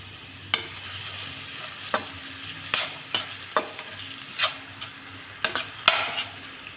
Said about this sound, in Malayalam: അരിഞ്ഞു വെച്ചിരിക്കുന്ന സവാളയും ആവശ്യത്തിനുള്ള ഉപ്പും ചേർത്ത് വഴറ്റുക.